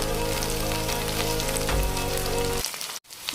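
Chicken curry masala sizzles loudly and steadily in a pan as it is fried, a dense continuous crackle that drops away abruptly near the end.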